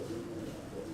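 A prized competition bird, a dove-type cooer, gives a single soft, low, steady coo, faint and alone.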